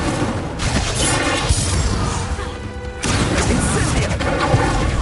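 An Incendio fire spell in Hogwarts Legacy bursts out in dense, loud crashing whooshes layered over continuous combat noise and game music, with a sharp renewed surge about midway.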